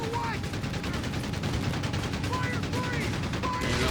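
Battle fire in Company of Heroes 3, with bazooka teams and a Flak Panzer trading shots, a dense rapid crackle of automatic flak and gunfire under a rumbling, busy war-game soundscape.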